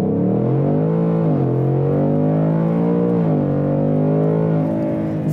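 A 2021 Ford Mustang Mach 1 V8 launches off the line with a loud, close engine roar that climbs in pitch, dips briefly at each gear shift and then rises again, with no talking.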